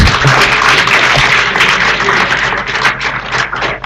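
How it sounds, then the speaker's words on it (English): Loud, sustained applause from the audience at a guest lecture on cloud computing, many hands clapping close and dense throughout with no talk over it. "Please give a huge round of applause."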